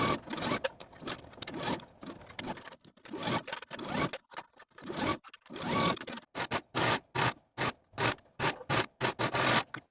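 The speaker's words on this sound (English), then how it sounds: "Now take your dress to the sewing machine and sew the sleeves to the dress with a 3/8 inch seam allowance" A sewing machine stitches sleeve seams on a dress, running in short whirring bursts separated by pauses, with the bursts becoming rapid and evenly spaced toward the end; no talking.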